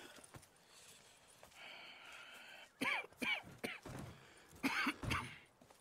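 Coughing from a character in the video game Red Dead Redemption 2: several rough, close coughs in bursts over the second half, following a murmur of game voices and a humming tone.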